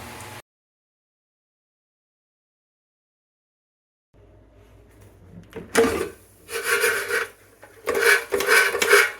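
Masala-coated peanuts tumbling in an air fryer basket give a dry rattling, rasping rustle in short bursts after a stretch of near silence, soft and close with no speech.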